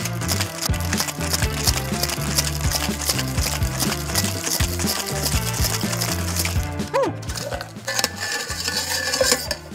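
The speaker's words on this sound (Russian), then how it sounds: "Закрываем шейкер, подготавливаем бокал и шейкуем." Ice rattling and clinking inside a metal cocktail shaker while a Cosmopolitan is mixed, a busy metallic clatter with ringing tones that keeps up at a fairly steady level, with no talk.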